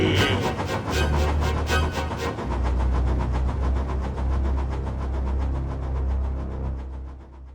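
The ghost steam engine Clinchfield 311 rumbles loudly and close, with a rapid rhythmic clatter of wheels over a deep, continuous low drone.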